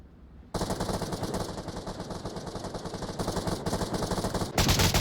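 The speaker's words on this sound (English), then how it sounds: "Gunfire going on." Sustained automatic gunfire in the VR shooter Onward, a loud, close, rapid stream of shots running nearly unbroken after a brief quiet start, ending in a harsher burst.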